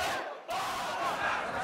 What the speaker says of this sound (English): Suddenly, he is mobbed by an angry crowd, hounded out as a crony of Hosni Mubarak.